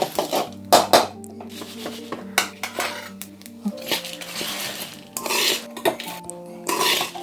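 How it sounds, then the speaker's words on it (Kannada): Roasted spices for puliyogare masala are tipped and scraped from a pan into a mixer jar, with repeated metallic clinks, knocks and rattles in irregular bursts over a faint musical backdrop. "ಇದನ್ನು ಇವಾಗ ಮಿಕ್ಸಿಗೆ ಜಾರಿಗೆ ಹಾಕ್ತಾ ಇದ್ದೀನಿ."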